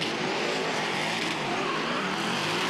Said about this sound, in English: Listen to those turbos roar, those superchargers on his door.